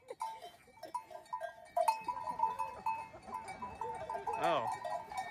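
Goats on a beach in Spain bleat several times nearby, mixed with the clank of a cowbell and brief human voices.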